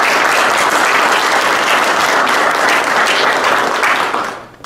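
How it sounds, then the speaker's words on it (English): Loud, sustained clapping from an audience at a school senior signing day, a dense crackle of many hands that carries on evenly before quickly fading out at the end. "So give her a big round of applause."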